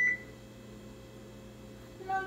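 A home kitchen oven beeps while stuffed bell peppers bake, giving one short electronic beep at the start and another near the end, with a low steady hum between them.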